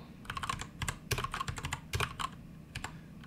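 Computer keyboard typing Python code in quick irregular bursts of clicky keystrokes, close and fairly loud, with short pauses between runs and no voices.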